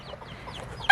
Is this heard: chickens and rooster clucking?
yes